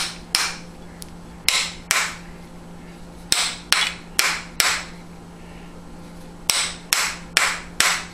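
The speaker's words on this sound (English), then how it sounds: "I just hammered on it, the side of it a little bit to... square it up" A hammer strikes the side of a copper induction heater work coil in a series of sharp, loud metallic blows, some spaced apart and some in quick pairs, over a low steady hum.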